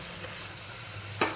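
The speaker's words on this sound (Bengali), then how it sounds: "বেশ করে নেড়ে নেব" Ground spices in oil, with turmeric, chilli and coriander-cumin powder, softly sizzle in a pan while being stirred for ghugni, ending in a brief sharp scrape of the spoon.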